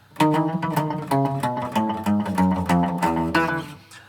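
A clean electric guitar phrase of quick notes, hybrid-picked with a thumb pick and index finger, bright and close, with snappy attacks in a flowing rhythm, played alone.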